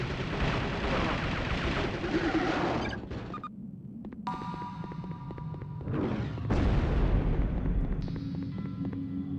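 A missile explosion in the PS1 game C-12: Final Resistance lands as a heavy, loud boom amid ongoing game noise, with further blasts and rumbling effects following, and no talk over it.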